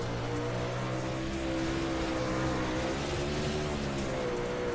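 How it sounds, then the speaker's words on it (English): Dirt race car engine in a sim racing game bouncing hard off the rev limiter, a loud, steady buzzing drone with tight stuttering pulses that holds throughout, no talking over it. "You can hear him down the rev limiter"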